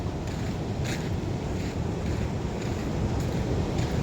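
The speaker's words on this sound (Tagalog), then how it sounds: "Hindi pala basta-basta ang alon dito." Strong sea waves crash onto a beach in Zambales as a steady, loud roar of surf and wind buffeting close to the microphone, unbroken for the whole stretch.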